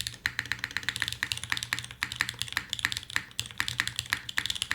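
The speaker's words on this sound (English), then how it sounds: "I'm typing gibberish all the time." Fast, steady typing on a computer keyboard: a dense run of crisp, close-up key clacks with no speech.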